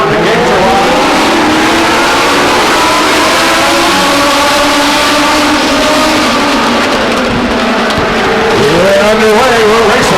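Race cars at Stockton 99 Speedway roar off at the start of a race, several engines revving and accelerating together in a loud, continuous, rising drone with a crowd-filled, open-track atmosphere.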